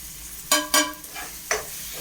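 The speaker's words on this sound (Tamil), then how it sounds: "போட்டு நல்லா கிண்டு கிண்டணும்" Sautéed onions being stirred with chilli powder, turmeric and masala for an egg curry: three sharp scraping strokes of a spoon across the pan over a low sizzle, close and distinct.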